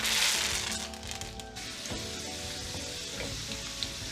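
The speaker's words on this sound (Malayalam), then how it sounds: "ആ സമയത്തേക്ക് 2 താണ്ട് കറിവേപ്പില ഇട്ട് കൊടുക്കുകയാണ്" Garlic and curry leaves sizzle in hot oil for a mango pickle, a steady close crackling fry with a brief stir midway and no talk.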